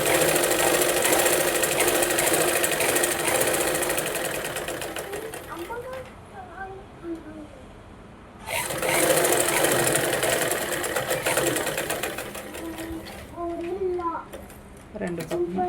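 A sewing machine stitching a straight seam on a blouse lining runs in loud, steady mechanical bursts, pausing briefly midway before starting again, with a person talking over it.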